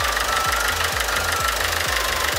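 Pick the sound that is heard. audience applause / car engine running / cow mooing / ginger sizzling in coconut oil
car engine running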